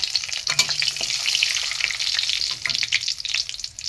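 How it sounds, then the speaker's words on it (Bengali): Cumin seeds, a dried chili and a bay leaf temper in hot mustard oil over low heat, crackling and sizzling steadily up close, with light stirring. "এবার আমি একটু জিরে দিয়েছি, একদম গ্যাস কমিয়ে, না ফোড়নটা পুড়ে যাবে"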